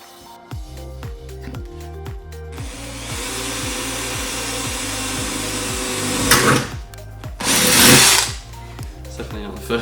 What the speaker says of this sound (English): How do you feel drilling into your car?